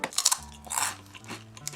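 A salty Japanese rice cracker snack crunches loudly between the teeth in a few crisp, brittle bursts, close to the mic, with a soft tonal hum underneath and no speech.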